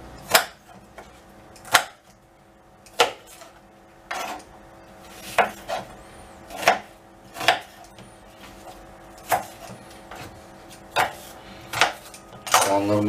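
Small sweet onions being chopped with a knife on a cutting board, a series of about a dozen sharp, evenly spaced knocks roughly one second apart, close and clear with no talk.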